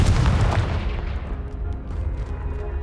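Confringo spell blasting a pile of debris in Hogwarts Legacy, a single loud close boom that fades away with a rumbling tail.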